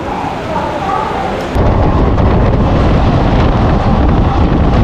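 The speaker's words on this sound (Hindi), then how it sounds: "बारिश तो बहुत ही ज़बरदस्त हो गई है यहाँ पर सिकंदराबाद में।" Heavy rain pours down with rolling thunder at Secunderabad railway station, a loud, continuous roar that swells stronger partway through, with no voices.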